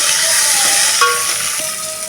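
Curry leaves and dried red chillies crackle in hot oil for tomato rasam, a loud, close, steady sizzle with a faint clink in the middle.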